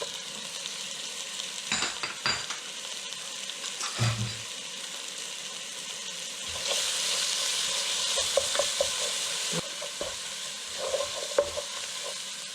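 Garlic, ginger and peppers sizzle and fry in a pan with intermittent stirring scrapes, the frying hiss swelling louder midway through, no talking.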